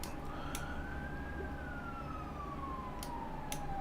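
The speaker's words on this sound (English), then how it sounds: "Every time I hear that siren go by," An emergency siren wails slowly in a long rising-then-falling tone, moderately distant, over a steady low traffic hum with a few faint clicks.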